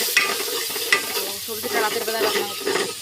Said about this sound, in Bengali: টমেটো বাকি পেঁয়াজ মরিচ সব মশলা বেটে দিয়ে এটা এখন ইয়া করা হচ্ছে কষানো হচ্ছে